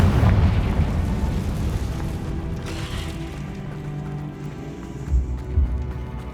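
A Confringo fire spell bursts in Hogwarts Legacy, opening with a loud, deep blast that rolls into a decaying rumble, with a couple of lighter thuds near the end.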